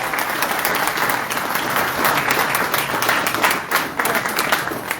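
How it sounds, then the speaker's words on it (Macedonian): An audience at an awards ceremony for the best athletes of Probištip applauds an athlete with sustained, even clapping from many hands. The applause is fairly loud and fills the hall for several seconds. "Молам уште еден аплауз за Тоше."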